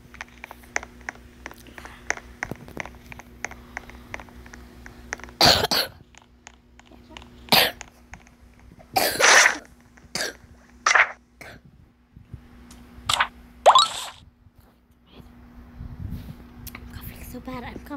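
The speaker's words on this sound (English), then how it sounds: "I'm coughing so bad, I need to drink water." Several harsh coughs burst out close by at irregular intervals, separated by quiet stretches and faint background noise.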